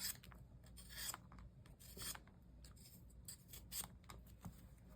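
A sharp new budget fixed-blade knife rasps repeatedly through a thick rubberized card-stock price tag, making close, dry scraping strokes in an uneven rhythm, with no voices.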